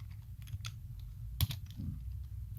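Typing on a computer keyboard while writing CSS code, heard as soft, close key clicks in an irregular rhythm, with a couple of slightly louder strokes.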